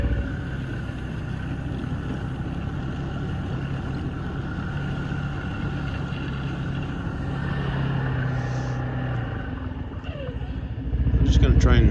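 A snowmobile tows a long trail groomer on a snowy trail, its engine running as a steady, rough mechanical drone for several seconds, growing louder near the end, with someone talking over it at times.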